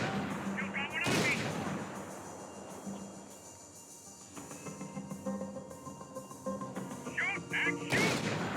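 Gunfire from Max Payne 3 erupts in loud sharp bursts, with a heavy volley near the start and another near the end, and scattered shots and impacts between them under background game sounds.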